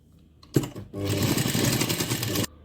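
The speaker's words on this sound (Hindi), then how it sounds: "अब हम इसकी जो मेन एक सिलाई की लाइन होगी इसे फिक्स करने के लिए वो लगाएंगे।" A sewing machine runs in one continuous burst of about a second and a half, a close, steady mechanical whirr, while stitching a fabric sleeve to its lining. It starts after a brief click and stops abruptly.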